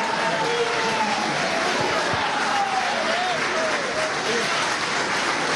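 Ovation from the 545 members of Venezuela's National Constituent Assembly in the chamber during a session with President Maduro, a loud continuous wash of clapping and crowd noise with voices mixed in throughout.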